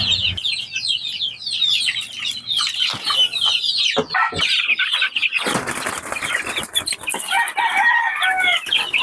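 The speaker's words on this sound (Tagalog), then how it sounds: "4 weeks old na chicken, na sisiw." Four-week-old chicks clucking and cheeping in a backyard, a busy flock of close high-pitched calls with bursts of wing flapping and scuffling.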